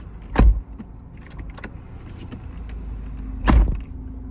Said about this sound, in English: I think you need to close the door, probably the front door right here.